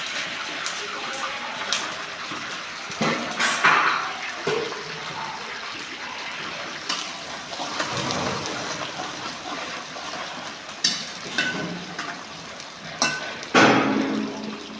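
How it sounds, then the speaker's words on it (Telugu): Mustard seeds fry and splutter in a hot pan for vangi bath, a steady close hiss broken by sharp pops and bursts that flare up now and then, with no talking. "ఆవాలు వేగాయి."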